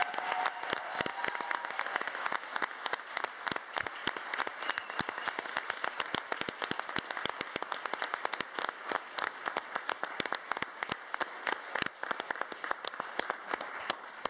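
Sparse, uneven clapping from a small group in a city council chamber after a vote confirming candidates, individual hand claps distinct and sustained for about fourteen seconds, moderately close, with no speech.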